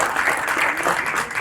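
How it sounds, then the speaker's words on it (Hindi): Loud, steady applause from an audience at a film trailer launch event for Carry on Jatta 3, a dense continuous clapping that fills the whole short moment with no gaps. "जो भी एक बार जोरदार तालियां हो जाएं"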